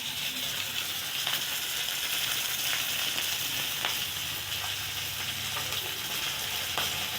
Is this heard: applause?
no